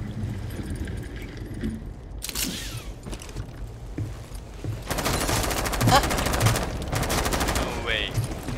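Gunfire in Rainbow Six Siege, with a brief burst early on, then a longer stretch of rapid automatic fire mixed with metallic rattling and mechanical clatter.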